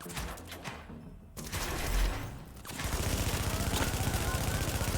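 Gunfire and grenade blasts in the video game The Division, with rapid bursts of automatic fire, a heavy explosion-like surge, then sustained rattling shots, loud and dense throughout.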